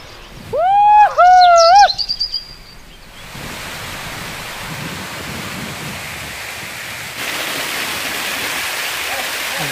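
After a few seconds of loud, swooping whoops, the roar of Tyrshi Falls in Meghalaya takes over as a steady rushing wash of water that grows slightly louder toward the end.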